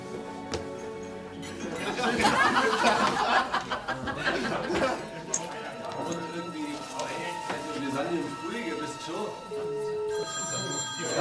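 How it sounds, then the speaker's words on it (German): A telephone rings in a busy room with people talking and chattering around it, the ringing steady and moderately loud under the voices. "Telefon."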